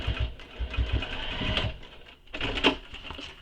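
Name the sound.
sewing machine top stitching thick backpack seam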